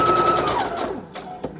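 A sewing machine runs a straight stitch on scrappy fabric tags, a steady close mechanical whir for about a second that winds down into a few soft clicks.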